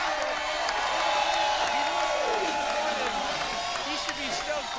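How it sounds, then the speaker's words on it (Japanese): Spectators at an X Games inline skating contest keep up a broad, steady roar of cheering, with scattered whoops and a commentator talking over the top throughout. "賭けに出た大技に会場からは惜しみない歓声が続いた"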